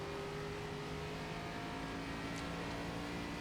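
ARCA race car engine in iRacing at Phoenix, a steady droning engine note with tonal whine, held at an even level throughout with no talk.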